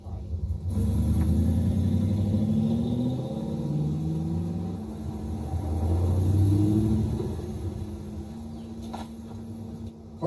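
A manual car's engine drones at low revs while driving, rising and falling as it pulls through the gears, heard from inside the cabin as a steady, fairly loud rumble that eases toward the end.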